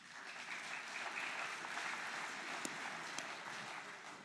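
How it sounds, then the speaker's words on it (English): A church-hall audience at a talk by Bishop Michael Nazir-Ali in Torquay claps steadily, a sustained wash of applause from a mid-sized crowd with no voices over it. "See, it's the men who are clapping, not the women."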